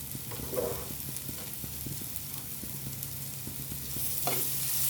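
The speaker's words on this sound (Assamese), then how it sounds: "এয়া মাছখিনি ফ্ৰাই কৰি থৈছোঁ" Fish pieces fry in a pan for an Assamese-style fish curry: a continuous close sizzle with soft stirring scrapes, swelling slightly louder toward the end.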